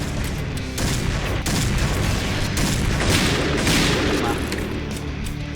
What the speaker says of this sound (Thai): เสียงบาเลตมันช่างไพเราะสะเดาะสะเดาะหูจริง ๆ